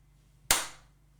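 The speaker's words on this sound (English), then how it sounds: "We need a clap." One sharp hand clap rings out close and loud in a quiet studio to sync a podcast recording, with a brief decaying tail and no talking.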